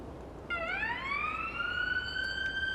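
Ambulance siren in the video game Ambulance Life: A Paramedic Sim, starting suddenly and rising into a steady, clear wail that holds over a low background hum, with no talking.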